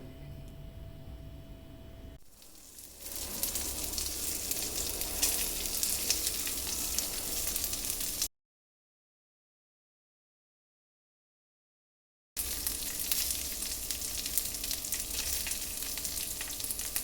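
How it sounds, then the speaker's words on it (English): Guanciale sizzling and frying in a hot pan with no oil added, a steady close crackling hiss that starts after a quiet moment, breaks off briefly, then resumes just as strongly. "Heat a pan and without adding any oil, just put the guanciale inside, or the bacon, or the pancetta."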